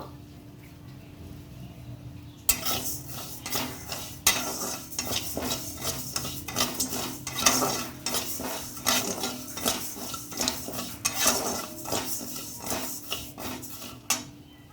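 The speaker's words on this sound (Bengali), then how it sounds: "কড়াইতে এখন ভেজে নেব, হালকা হালকা ভেজে নেব তোমার গোবিন্দভোগ চাল" Gobindobhog rice dry-roasts in an oil-free wok. After a quiet start, a spoon begins a busy, rhythmic scraping and rattling of grains against the metal, loud and close, repeating steadily to the end.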